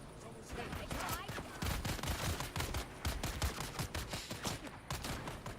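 In a Dune: Awakening survival game, enemies fire at the player's vehicle as it drives on Arrakis. Dense, rapid bursts of gunfire rattle continuously over the rumble of the vehicle.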